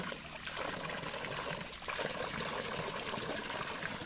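Water pouring to fill a bottle at an off-grid campsite in Portland, Jamaica, a soft, close trickle and splash that runs steadily and is fairly quiet.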